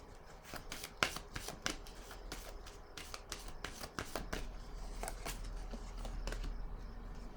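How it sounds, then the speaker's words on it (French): Tarot cards handled and laid down on a table during a reading, a series of soft, quick papery slaps and shuffling taps at close range, with no talking. "Je vais déposer une autre carte."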